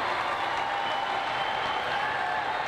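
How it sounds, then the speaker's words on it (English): Applause from a basketball crowd for a Team Belize player leaving the court at a FIBA AmeriCup 2021 pre-qualifier against Cuba, heard as a steady, even wash of arena crowd noise with no distinct individual claps or voices standing out. "a round of applause for Edgar Mitchell"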